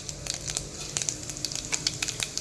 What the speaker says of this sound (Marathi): तेल तापलेलं आहे तर त्याच्यामध्ये आपण मोहरी घालूया ओवा घालूयात